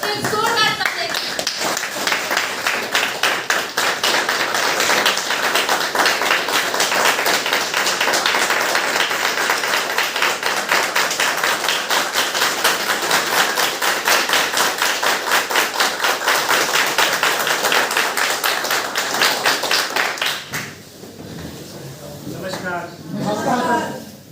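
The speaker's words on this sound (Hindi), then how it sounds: "अपने अपने स्थान पर खड़े होकर एक जोरदार ताली" A standing audience at a training session in a hotel claps loudly and rhythmically in unison for about twenty seconds, then the clapping cuts off and a voice begins speaking.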